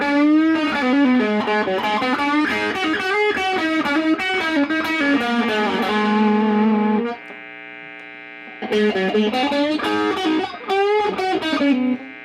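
An overdriven Steve Brown Sound SBS VS300 HSS electric guitar plays distorted riffs and chords on bridge and middle single-coil pickups, pausing for a sustained ringing chord before chugging resumes, loud and up front.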